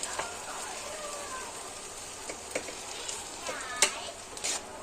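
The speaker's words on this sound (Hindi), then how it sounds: "ऐसा मिला लेना अच्छे से चावल को" Rice is stirred into fried tomatoes in a cooking pot, giving a soft wet sizzle with scattered spoon scrapes and light knocks, close and fairly quiet, with no talking.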